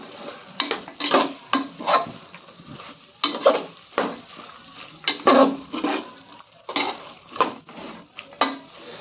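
Vegetables with garlic paste get stirred in a pot, a spoon scraping and clattering against the metal in uneven bursts with short pauses between, close and clear over a faint sizzle.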